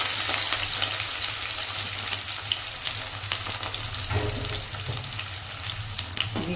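A large chopped onion fries in a pan with dried red chillies for potato kurma, a steady close sizzle with occasional scraping stirs and small spatters, no voices.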